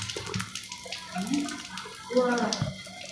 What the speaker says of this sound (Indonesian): Setelah 5 menit nanti kita bilas dengan air mengalir